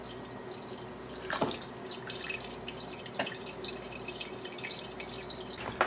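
Coffee poured from a pot into a paper filter cone, trickling and dripping steadily, with a few louder splashes and pours standing out over a continuous wet drip close by, no voices.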